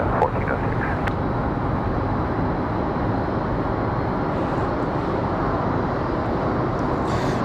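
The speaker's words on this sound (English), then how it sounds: "that A320 starting up just below us" Airbus A320 airliner engines spooling up at an airport, a steady broadband roar close by and continuous throughout, with a faint higher whine rising near the end.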